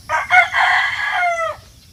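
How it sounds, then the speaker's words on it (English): A rooster crows once in a yard, a loud, close, drawn-out cock-a-doodle-doo lasting over a second and ending in a falling tail, with no talking. "it seems like the chickens know that, and roosters, and they start all of that din."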